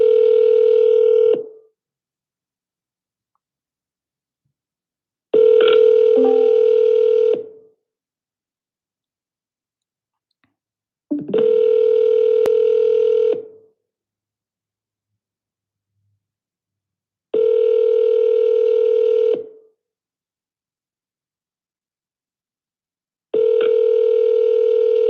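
An outgoing telephone call rings back in a steady pattern: five long, loud electronic ring tones, each about two seconds, separated by roughly four-second silences, heard alone with no voices.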